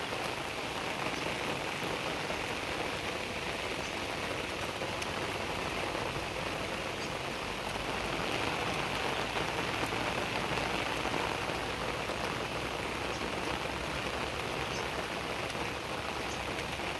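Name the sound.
heavy rain falling on farm fields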